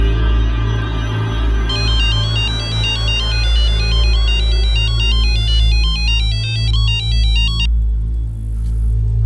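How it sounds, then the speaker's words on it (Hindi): A telephone ringtone plays loud and close as a repeating electronic warbling melody in several bursts over a low steady hum, with no voices. "और पुनीत के अलावा उसके पिता को भी ये धमकी भरे फोन कॉल आने लगे।"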